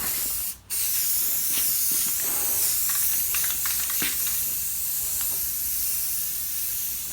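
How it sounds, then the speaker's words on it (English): Steady close spray-gun hiss as a rusty trailer is resprayed, a continuous airy rush lasting throughout with one brief break near the start and faint clicks and knocks under it. "Now we're just respraying it."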